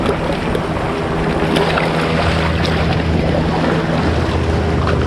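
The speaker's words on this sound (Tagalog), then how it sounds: "Oops, lalaki na alon." Waves slap against a small fishing boat on open water, a continuous rushing, splashing wash with wind buffeting the microphone and a low motor hum underneath, loud and close.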